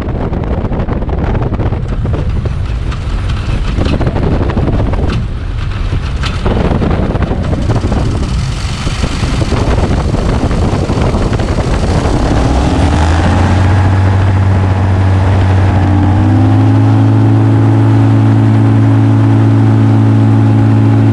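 A light aircraft's engine restarts in flight after an engine-out, first buried under loud rushing wind, then rising into a steady droning hum that settles at a constant pitch and stays loud to the end.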